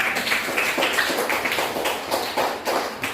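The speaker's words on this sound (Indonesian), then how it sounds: "tepuk tangan buat anak ibu dulu" Children in an Indonesian classroom clap for a classmate, a fast, uneven patter of small hands that rises and falls in bursts for about three seconds, close by and with no talk over it.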